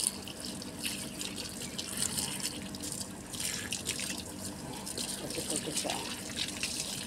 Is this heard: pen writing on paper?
no